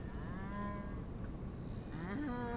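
In the video game Głupki z Kosmosu, a cow gives a long low moo that rises in pitch near the end, quiet and close with no voices over it.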